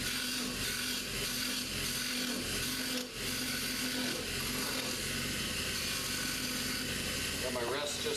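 A woodturning lathe shapes a fishing rod handle with a round scraper, the tool rest set slightly too far away. The result is a steady, continuous rattling chatter and whir of the cut that runs unbroken throughout.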